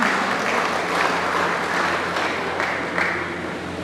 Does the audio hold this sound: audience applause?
yes